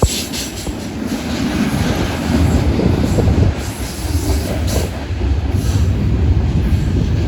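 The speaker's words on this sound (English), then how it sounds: "Where there's a train." A CN intermodal freight train rolls past heading east in Edmonton, Alberta, a loud, steady rumble of railcars with wheel clatter and faint squeal running the whole time, with no voices.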